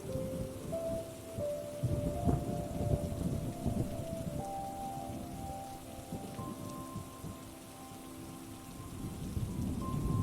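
Steady rain pours down with low rumbles of thunder rolling underneath, a dense continuous wash of drops throughout.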